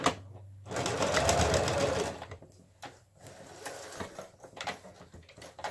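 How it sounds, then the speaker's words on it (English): A sewing machine stitches a strip of jute onto a fabric scrap tassel, a steady whirring run for about a second and a half, then shorter, quieter bursts of stitching with handling noise between them. "So you want to sew your piece of jute on here."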